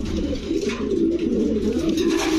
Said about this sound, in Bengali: দুইটা কবুতরই দেখাবো আপনাদের